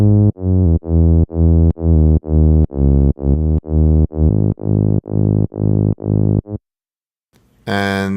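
A Serum-made sub bass layer, a low-octave sine wave with a saw on top, plays a rhythmic pattern of short, evenly pulsed notes, followed by a brief pause and a burst of noise at the end.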